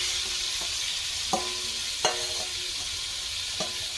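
Meat is stir-fried in a pan with fried onion, salt, turmeric and spices, giving a soft continuous sizzle broken by a few sharp spatula scrapes and clinks against the pan.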